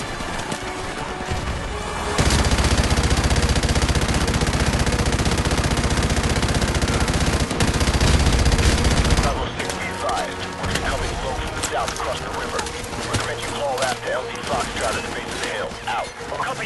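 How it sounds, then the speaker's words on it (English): Gunfire in Modern Warfare Remastered, a sustained loud roar of rapid shots for several seconds, then scattered firing under a voice talking. "I don't even know where I'm getting shot from"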